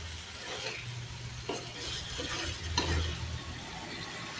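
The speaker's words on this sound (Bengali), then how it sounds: "পেঁয়াজ ভাজা হয়ে গেছে। এবার আমি ম্যারিনেট করা মাংসটা দিয়ে দেবো।" Marinated chicken fries in a pan with fried onions, a soft steady sizzle broken by several scraping, clattering stirs of a spoon against the pan; quiet and close, with no talking.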